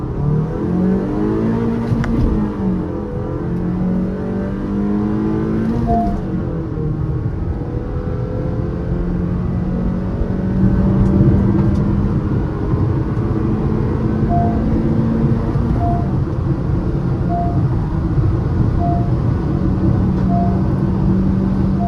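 A Honda Elevate and a Skoda Kushaq 1.0 TSI accelerate hard from 20 km/h in first gear during a roll race, heard from inside one car as a loud engine drone whose pitch climbs and drops with each gear change for about twenty seconds.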